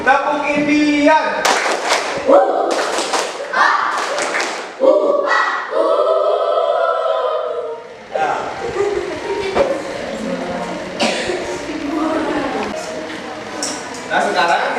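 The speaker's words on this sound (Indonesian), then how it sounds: "Tepuk Indian." Primary school class performing the Tepuk Indian clapping ice-breaker in a classroom, a series of loud rhythmic hand claps and slaps mixed with children's chanting voices, continuing throughout.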